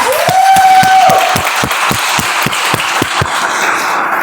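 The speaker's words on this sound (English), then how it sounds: "with a huge round of applause, let's all welcome Toastmaster of the day" An audience at a Toastmasters meeting applauds, with steady rhythmic clapping pulsing under a broad wash of hand claps, loud and close throughout.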